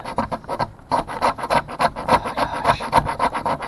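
A blade scrapes a magnesium fire starter block to shave off metal chips, giving quick, repeated rasping strokes in a steady rhythm, close and fairly quiet, with a short pause near the start.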